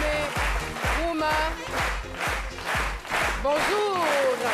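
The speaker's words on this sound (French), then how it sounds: "Merci d'applaudir notre invité témoin du jour," Studio audience applause greets a guest on a French daytime talk-show set, a broad patter of clapping running steadily under a loud musical jingle with a pulsing bass beat and voices.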